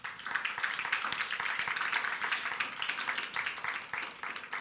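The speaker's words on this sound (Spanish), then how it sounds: "Dale un aplauso fuerte al Señor" A church congregation at a Spanish-language sermon breaks into steady, dense applause, many hands clapping together at a moderate distance for several seconds.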